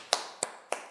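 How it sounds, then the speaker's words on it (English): A woman claps her hands three times, evenly spaced and crisp, close to the microphone and fairly quiet, with brief ringing tails between claps. "Clapping for myself."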